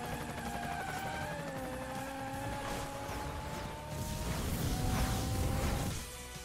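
Helicopter in the racing video game Split/Second, a steady mechanical whir with droning tones heard alongside car engine and whooshing race sounds that swell toward the end.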